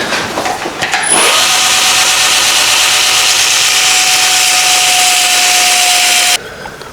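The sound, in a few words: linisher grinding a fastener corner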